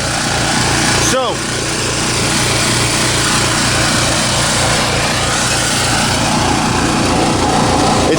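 A Champion generator's small engine idles steadily and loud up close, a constant buzzing drone with a brief metallic clink near the start and no load applied.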